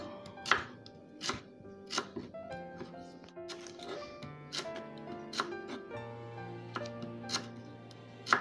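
Knife cuts through lemongrass on a board in a series of sharp, crisp taps at irregular intervals, close and clear with music faintly underneath.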